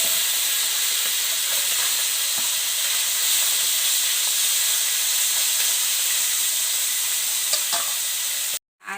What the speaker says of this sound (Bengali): এখন বাকি মাছগুলো ভেজে নেব।